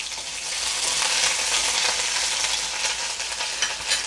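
Crushed green chili and ginger hit hot garlic oil in a pan, setting off a loud, dense, continuous sizzle that crackles close and steady throughout, with no talking.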